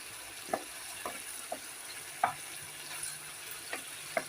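Chicken adobo with crushed pepper, vinegar and soy sauce being stirred in a pan, with about eight soft scraping strokes at an even pace over a faint, steady sizzle.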